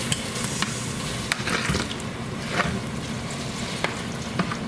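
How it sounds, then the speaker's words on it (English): Cooked macaroni is stirred into melted butter in a pot, giving a continuous wet, sticky squishing and soft scraping with occasional louder clatters of the spoon, close and steady with no voice. "we'll just mix it in with the butter real quick"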